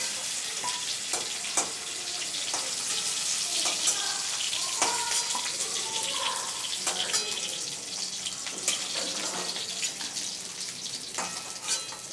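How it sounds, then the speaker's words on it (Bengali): Potatoes and raw green banana frying in hot oil with a steady, dense sizzle throughout, interrupted by scattered stirring and lifting clinks as the banana pieces are taken out, with no talking. "আলু আর কাঁচকলা ভাজা হয়ে গেছে এর থেকে আমি কাঁচকলাগুলোরে তুলে নিচ্ছি"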